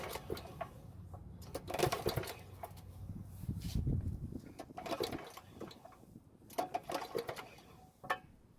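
Someone pulls the recoil starter rope on a generator engine that won't start, producing several quick whirring, rattling pulls in irregular bursts at moderate distance, separated by quieter pauses.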